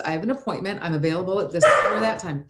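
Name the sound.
dog barking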